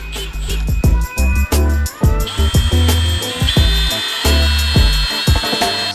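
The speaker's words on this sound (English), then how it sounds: "I always put the drill bit in the vise and put the nozzle in the drill" Electric drill spinning a small carburetor nozzle against a drill bit clamped in a vise, revving in loud, close bursts with a whining pitch that rises as it bores, interrupted by repeated brief stops and restarts.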